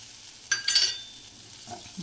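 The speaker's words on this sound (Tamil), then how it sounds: "இது போட்டதுக்கப்புறம் கொஞ்சம் நேரம் நல்லா இப்படி மறுக்க ஃப்ரை பண்ணி சிம்லேயே வச்சுருக்கணும்" A brief scrape of stirring in a pan over a faint, low sizzle of turkey berries frying with turmeric and chili powder, with no talking.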